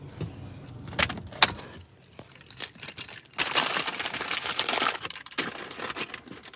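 Keys jangle close by as someone gets out of a car, with bright metallic rattling bursts mixed with rustling and crinkling handling noise and a few soft bumps, and no voices.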